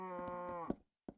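A cow in the Minecraft video game gives a single drawn-out, nasal moo with a clear tonal quality, then a brief soft knock after a short pause.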